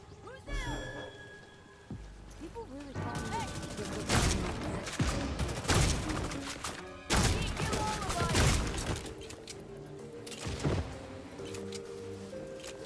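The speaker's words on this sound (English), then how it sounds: "Who's shooting at me?" Gunfire in the video game Redfall, bursts of rapid shots and a few single cracks in clusters across the clip, punchy and close, mixed with game music and someone talking.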